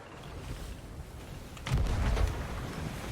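Stormy weather in a video game, with a steady wash of rain and wind and a deep rumble of thunder swelling midway before easing back to a constant roar.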